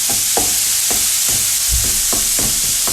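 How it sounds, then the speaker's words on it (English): 500 grams of beef mince frying in a pan, a loud, constant sizzle with a spoon scraping and stirring at a regular rhythm roughly every half second. "frying the mince in batches, just 500 grams at a time"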